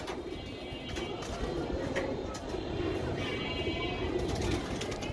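Foreign racing pigeons coo low and continuously, soft and somewhat distant, half-buried in a steady wash of background noise.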